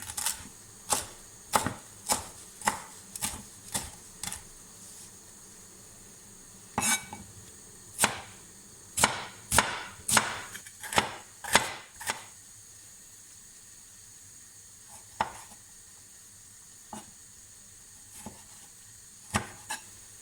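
A knife chops coriander on a cutting board in quick bursts of sharp taps, pausing between runs of cuts, close and clear in a quiet room.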